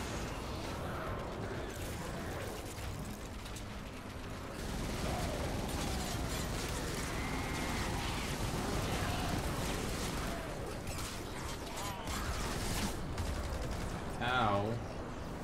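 Rapid gunfire from a weapon in the Fortnite PC game, bursts of shots rattling at moderate loudness with a voice talking over them.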